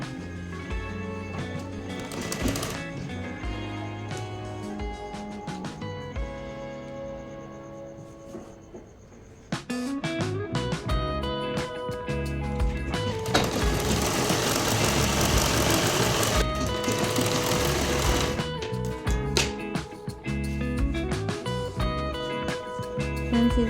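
A sewing machine stitches a salwar in steady mechanical runs, its motor whirring and needle clattering close by, pausing briefly before a louder, busier stretch of stitching.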